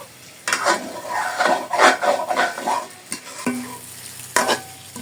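Chicken pieces sautéed and stirred in a pot on low heat for haleem, with a steady sizzle of frying and repeated scraping stir strokes close by, no talking.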